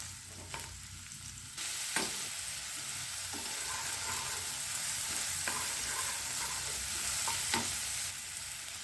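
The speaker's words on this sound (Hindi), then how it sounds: "इस ऑयल में हम प्याज को डालकर फ्राई करेंगे।" Sliced onions with ginger and garlic fry in hot oil for a McDonald's-style veg burger, a steady soft sizzle broken by several sharp scraping stirs of a spoon against the pan.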